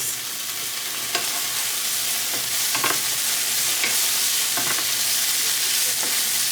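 Food stirred in a hot pan to coat it in Japanese barbecue sauce, a steady close sizzle with scraping strokes of the utensil at irregular intervals throughout.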